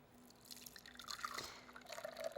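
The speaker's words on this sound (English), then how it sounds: "you strain it to make sure you don't have any pieces of cooked egg yolk" Creme brulee custard being strained, giving a soft, continuous trickle with fine dripping, close and quiet.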